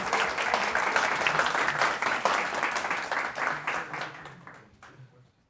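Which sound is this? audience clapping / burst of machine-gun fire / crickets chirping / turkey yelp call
audience clapping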